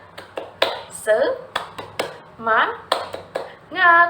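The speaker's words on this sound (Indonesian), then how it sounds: "Yuk, tepuk semangat." Elementary class doing a 'tepuk semangat' spirit clap: sharp, patterned hand claps in a rhythmic sequence, with children's voices chanting between and along with the beats, close and lively.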